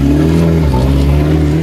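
A Cisitalia 204 race car's engine roars loudly and close in a brief sustained rev as it pulls away, a strong steady harmonic growl.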